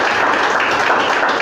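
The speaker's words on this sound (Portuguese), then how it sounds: "Pode aplaudir e glorificar o Senhor." A church congregation applauds and claps in a dense, steady burst of moderate loudness, brief and continuous with no gaps.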